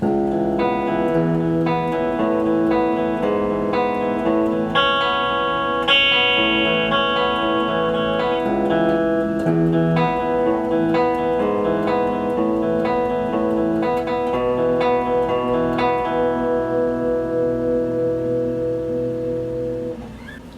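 Electric guitar plays the second verse riff of a song, a sustained, ringing chord-based pattern with shifting notes and steady picking, loud and alone until it fades at the end.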